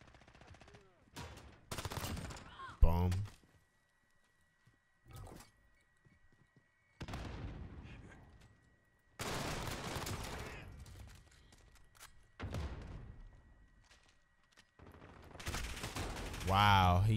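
Gunfire in the video game Call of Duty Modern Warfare: several loud bursts and single shots from an online match, separated by stretches of near silence.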